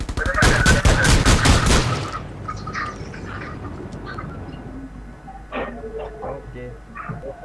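Automatic gunfire in the Rules of Survival battle royale game rings out as a loud, rapid burst of shots. The burst lasts about two seconds, then quieter scattered in-game sounds and voices follow.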